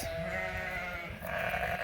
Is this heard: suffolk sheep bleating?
yes